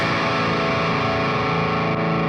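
A dark, heavily distorted electric guitar tone through a David Maxim Micic plugin rings out as a sustained, saturated chord, thick and loud with no voices over it.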